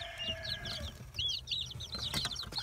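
Nagasaki and Kikiriki cross chickens clucking softly in a farmyard, with brief chirps and cackles over a low, steady background rumble, fairly faint and with no talk.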